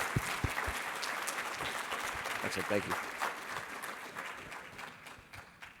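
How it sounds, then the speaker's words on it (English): Conference audience applauding at a climate leadership plenary session, a steady broadband wash of many hands clapping throughout, with a speaker's voice briefly heard over it. "let's give it a round of applause"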